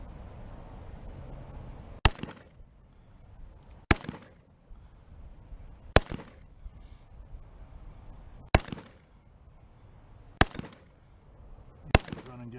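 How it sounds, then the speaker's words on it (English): Six sharp gunshots ring out from a Springfield Saint Edge rifle at a shooting range, evenly spaced about two seconds apart, each a loud crack with a short echo over a quiet outdoor background. "First shots."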